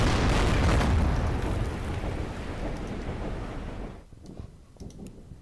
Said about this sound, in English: We use some of the heavy guns from our ships.